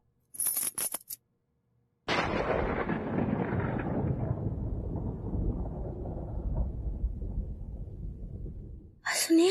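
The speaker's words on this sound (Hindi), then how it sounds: "बादल गरजने का बात कर रहे हैं" Deep, rolling thunder from a rain-season storm breaks in after a few short sounds and brief silence, then rumbles loudly and steadily for about seven seconds before fading, with a sharp sound at the very end.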